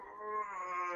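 During a tabletop fantasy game, a voice imitates a Leshen monster's howl: one rising, sustained, mournful tone lasting about a second, fairly quiet and alone.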